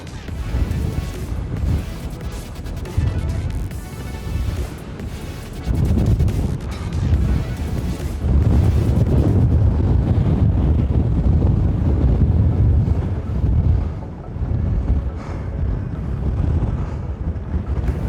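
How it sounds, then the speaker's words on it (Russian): Strong winter wind on Mount Koshka in Simeiz, Crimea roars and buffets against the microphone in loud, continuous gusts, with faint voices partly buried beneath the rushing noise. "Просто зимой ураганный ветер поднялся на кошку."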